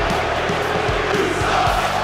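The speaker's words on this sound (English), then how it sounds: "This crowd not happy with Ingrid" Wrestling arena crowd in a WWE 2K video game, a dense steady roar of many voices with rhythmic thumps underneath, continuous and loud, with no distinct speech.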